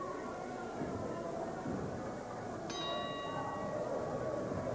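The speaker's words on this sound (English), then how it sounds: "Miss Philly, referee saying ring that bell before Katie Kincaid is ready." A wrestling ring bell is struck once midway and rings out with a bright, fading tone over the constant rumble of an arena crowd.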